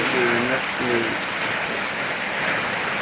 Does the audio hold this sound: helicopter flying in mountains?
no